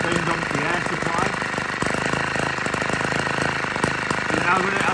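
A small air-powered generator runs on compressed air at about 55 PSI to charge a USB torch, giving a loud, continuous rattling mechanical drone with rapid pulsing, steady throughout.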